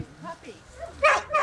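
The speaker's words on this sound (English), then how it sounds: "Here are a bunch of working dogs." Working dogs kept chained up for the summer in a yard, giving a few short barks and whimpers at close range with a person talking over them.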